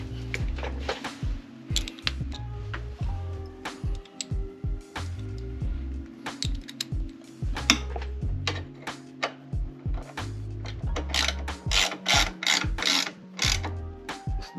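A part on a 2024 Harley Road Glide is tightened by hand with a ratchet, giving rapid clicking ratchet strokes in repeated bursts with brief pauses, close and fairly loud, and no speech.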